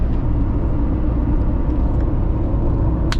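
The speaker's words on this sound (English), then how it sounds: "This is me driving over the Bosphorus into Asia" A steady, loud road rumble fills the cabin of an old car driving across the Bosphorus bridge, with continuous low engine and tire drone and no talk.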